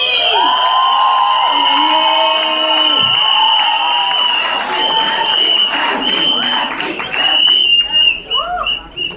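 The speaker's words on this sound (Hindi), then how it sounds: "कैन वी प्लीज बजाओ ताली" Audience at a Fukrey 3 trailer launch event claps and cheers in a steady, loud wash of applause and whoops, with voices and shouts mixed in throughout.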